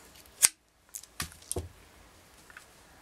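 Scissors snip through white beading thread: a sharp close snip followed by two or three quieter clicks and snips, alone in a quiet room.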